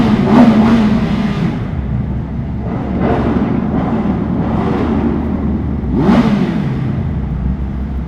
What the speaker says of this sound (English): You know you got to rev bomb the tunnel.